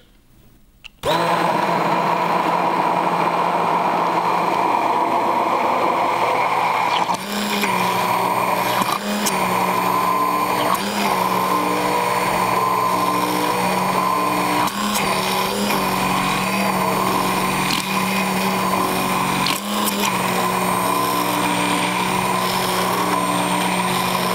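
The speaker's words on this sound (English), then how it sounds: "you're going to have to move the immersion blender around a little bit so that it gets incorporated and mixed into a smooth mixture" An immersion blender whirs steadily as it mixes homemade mayonnaise, a loud continuous motor drone with slight shifts in pitch as the blender is moved around the bowl, and no talk.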